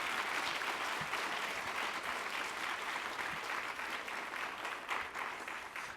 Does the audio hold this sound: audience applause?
yes